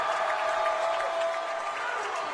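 Crowd at a college basketball game in a UMAC quarterfinal, Crown College against UM-Morris, cheering and applauding in a steady, dense roar that holds through the whole moment with no pauses.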